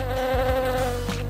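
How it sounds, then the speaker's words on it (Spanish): A wasp's buzz holds steady and close for a second or so, a loud continuous droning whine with no other sound. "Un avispa."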